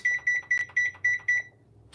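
A kitchen timer sounds six short, evenly spaced electronic beeps as it is set for an oven of egg bites, each beep loud and close and alone without talk, followed by a quiet moment.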